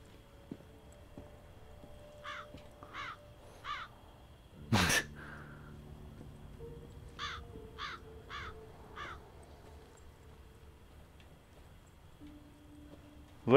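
Crows caw in short repeated bursts in The Walking Dead: Saints & Sinners VR game, two groups of three or four harsh calls set apart, with a sharp loud thud between them and a low ambient hum beneath.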